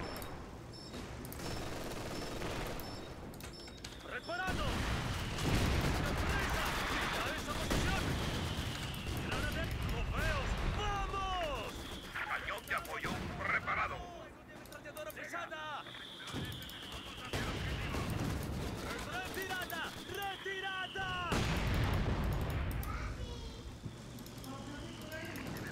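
Machine gun fire and explosions rattle through a Company of Heroes 2 battle, bursts of rapid shots repeating over a dense, continuous din of combat, with voices talking over it.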